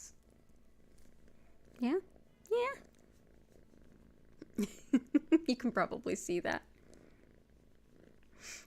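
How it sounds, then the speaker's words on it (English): A kitten purrs softly and steadily in the background, close by, while someone speaks over it in short phrases. "a kitten wants to play with my necklace"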